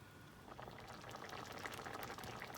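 Thick capsicum potato gravy bubbling and popping steadily in a pan, a dense crackle of small bursts at a quiet, even level.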